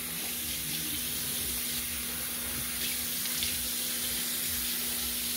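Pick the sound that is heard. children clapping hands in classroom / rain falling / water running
water running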